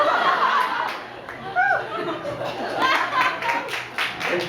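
An audience at a live Amis cultural performance in Hualien claps in scattered bursts amid soft chuckles and chatter, with someone speaking over the room.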